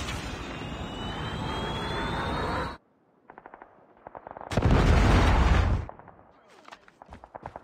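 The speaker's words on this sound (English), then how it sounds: "Predator missile inbound" Predator missile strike in Call of Duty Mobile: a sustained whooshing roar cuts off abruptly, followed by scattered crackles, then a loud booming explosion and trailing debris pops.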